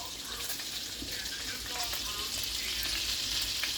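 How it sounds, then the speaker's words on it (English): Butter sizzles and fries in a hot cast iron pan for a salmon dish, a dense steady crackle close to the ear with small pops and faint stirring throughout. "So we're going to add half a stick of butter"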